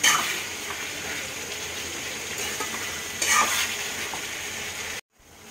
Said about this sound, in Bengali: আবার আমি এটাকে ভাজবো।